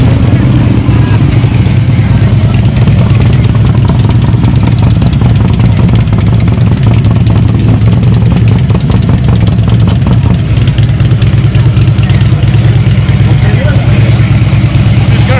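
A motorcycle engine idles with a loud, continuous low rumble close by, while people talk over it.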